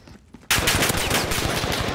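Dense automatic gunfire from a video game shootout bursts in after a quiet half-second, continuing as a loud, rapid, unbroken clatter of shots.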